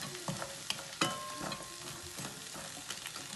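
Shrimp, vegetables and shallot cook over low heat in a pan with a quiet sizzle, broken by a few close scrapes and taps of a utensil against the pan.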